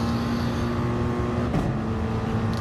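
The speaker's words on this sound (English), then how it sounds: "Love the noise that Mercedes makes." Mercedes race car engine in a sim racing game at Suzuka, a steady loud droning roar that holds at high revs throughout, with a brief shift blip midway.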